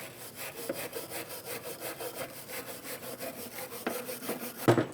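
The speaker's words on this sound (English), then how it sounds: "Clean the caliper bracket where the pads are going to sit." Rhythmic back-and-forth scraping of a wire brush or abrasive on a rear brake caliper bracket of a 2010-2015 BMW X1 xDrive, steady repeated strokes close by, ending with a sharper clunk.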